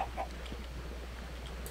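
Chicken clucking in the video game Minecraft, a faint brief cluck or two over a low steady hum.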